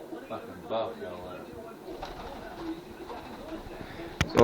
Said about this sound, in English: there goes the bird